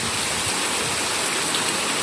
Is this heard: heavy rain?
yes